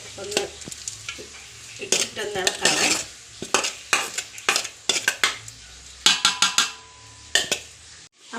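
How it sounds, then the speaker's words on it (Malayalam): Boiled tapioca mashed with ground coconut paste is stirred in a pot, giving repeated scraping, clinking strokes of a spoon against the metal in irregular bursts, close and fairly loud, with no talk. "നമുക്കൊന്ന് ഇളക്കി കൊടുക്കാം"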